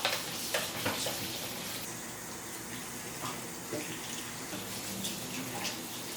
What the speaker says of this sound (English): I just wash it with my hand and with water